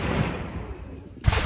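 Cannon artillery fires at Fort Sumter in a dramatized Civil War battle, with a rumbling blast fading out, then a second sharp, loud boom breaking in.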